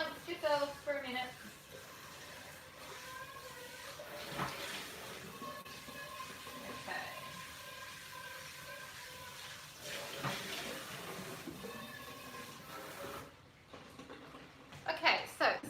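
A kitchen tap runs as a saucepan is rinsed, with splashing water rising and falling under a voice that talks over much of it.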